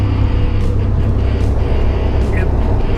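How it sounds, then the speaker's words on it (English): A third-generation car drives in fifth gear with the air conditioning running, producing a loud, steady engine and road drone heard from inside the cabin, with faint voice-like sounds in the background. "I'm keeping the car in 5th just to try to heat it up a little bit."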